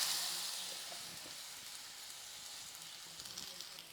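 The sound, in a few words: chopped ripe banana sizzling in hot ghee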